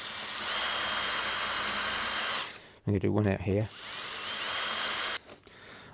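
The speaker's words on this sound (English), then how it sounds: "I'm also then going to use a hinge drill." A small spring-loaded hinge drill whines in a long steady burst boring hinge holes in a wooden blanket box, stops while someone speaks briefly, then runs again for a couple of seconds.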